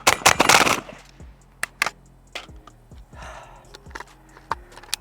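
Gunfire from a Pioneer Arms 556 Sporter AK rifle on a range, a rapid burst of shots followed by single sharp reports spaced irregularly, each with a short echoing tail, loud and close.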